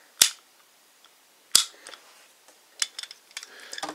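A toy Kamen Rider Fourze Launcher Astro Switch, a plastic missile-style lever, is pulled forward: two sharp plastic clicks a second or so apart, then a scatter of lighter clicks and handling noises, close and alone.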